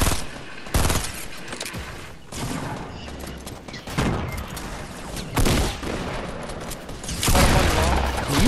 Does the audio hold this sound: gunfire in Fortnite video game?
yes